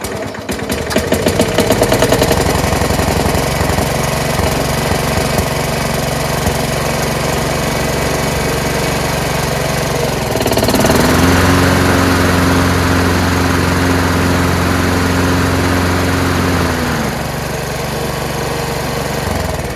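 A Craftsman 30-inch riding lawn mower engine runs loud and close with a steady, rough drone that shifts to a higher, harder-working pitch partway through, then settles back, with no voices.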